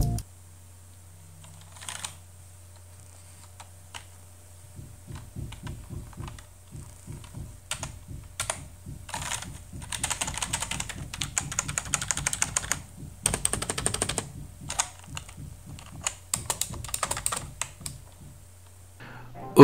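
Keystrokes on a budget 26-euro gaming keyboard, starting sparse and building into fast, dense clicking bursts near the mic, with pauses between runs and a steady low hum underneath.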